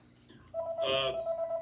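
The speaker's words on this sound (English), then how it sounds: "Apparently, she's not answering the phone." A telephone rings out during an unanswered call, a steady electronic ring tone sustained at moderate volume after a brief faint lead-in.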